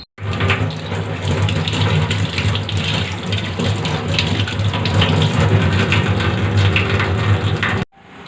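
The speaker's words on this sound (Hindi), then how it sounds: "फिर हम पतीले में 1 गिलास पानी लेंगे" Water pours steadily into a cooking pot for guava leaf tea, a continuous loud splashing gush lasting around eight seconds before stopping abruptly.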